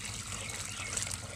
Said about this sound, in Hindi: let's pour water in this खड्डा